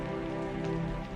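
Steady rain falls outside during a flood in a village, making a continuous, even wash of sound with no voices.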